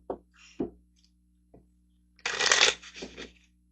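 Angel cards being shuffled by hand, a few short papery riffles followed by a louder, longer burst of card shuffling near the end, close and clear in a quiet room.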